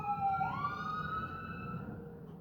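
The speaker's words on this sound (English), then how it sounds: "That's a second ambulance." An ambulance siren wails with a rising then sustained tone, moderately distant and steady, with no talking.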